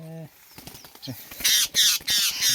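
Trapped parrots squawk in loud, harsh bursts that build over the second half of the clip, close by, with some talk and rustling in the first part.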